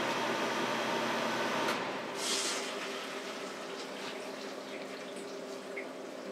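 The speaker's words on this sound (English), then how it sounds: "I'm going to turn this off so you can hear how loud the furnace and water heater are" A home furnace and water heater run steadily in a house, a constant broadband hum and whoosh with a faint trickle of water, a brief brighter hiss partway through.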